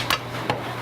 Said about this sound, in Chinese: 伊鸡肉是安尼剁无停